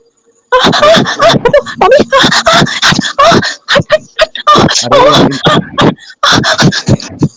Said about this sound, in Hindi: साकिब, साकिब, ये कुत्ता हटाओ।